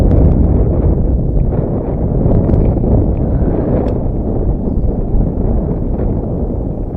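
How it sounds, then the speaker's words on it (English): Strong wind of 25 mph gusts blows hard across the microphone while fishing, a loud, steady roaring buffet with no pauses and no talk. "When that wind starts blowing,"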